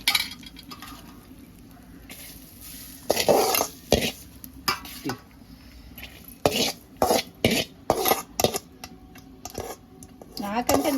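Food is stirred and mixed in a pot on a gas stove, with repeated scraping and clattering of a utensil against the pot in irregular bursts while people talk nearby.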